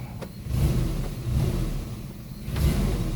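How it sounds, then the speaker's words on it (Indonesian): Petrol Isuzu Trooper fitted with a Rotax engine, revving in short pulses over a close, steady mid-pitched running note, swelling twice and then settling, with no talk. "Coba kita starter ya, enak ya mesinnya, enak."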